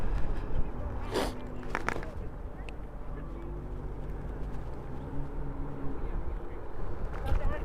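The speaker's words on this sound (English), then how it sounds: "There's a goose on the bike path." A goose on a waterfront bike path in Port Credit, Mississauga, gives a few short honks near the start, heard from an e-scooter over steady wind rumble and passing outdoor noise.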